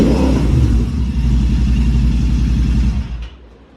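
A Royal Enfield motorcycle with a modified exhaust and a 650 cc twin-cylinder engine idles loud and close with a deep, throbbing thump, then cuts out and fades near the end.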